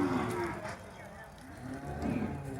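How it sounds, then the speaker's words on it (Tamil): Dairy cattle at a livestock market give a low, droning moo in a noisy outdoor setting with a second moo near the end, fairly faint and blended into the background bustle. "அந்த மாடு இருக்கு பாருங்க."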